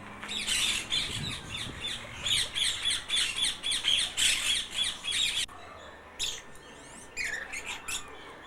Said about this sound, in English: Yellow-billed hornbill.